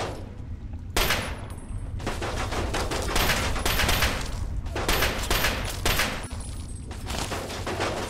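Chinese pistol fire in the Fallout 3 video game: loud, sharp shots in rapid clusters with short gaps between bursts, and no talking.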